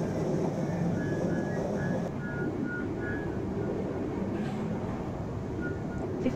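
Class 465 electric train cruising steadily in Train Sim World on a route toward Sevenoaks, a continuous low rumble of motors and wheels with faint high whine tones, steady and moderately quiet throughout.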